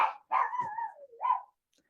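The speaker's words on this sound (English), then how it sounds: "I don't know if you guys can hear my dog barking in the background" A dog in the background lets out a couple of short, yelping barks with a slight whine, fairly faint, then goes quiet.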